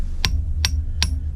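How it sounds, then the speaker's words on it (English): A hammer strikes flatwire steel three times at an even, unhurried pace, each blow a sharp, close metallic tap with a short ringing tail over a low steady hum. "I don't vary the angle of the hammer much at all."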